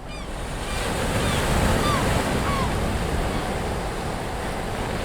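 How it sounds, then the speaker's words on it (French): Sea waves wash in a continuous broad roar while wind buffets the microphone, with faint distant bird cries over the surf. "je prends le son de la mer, je prends le son du vent"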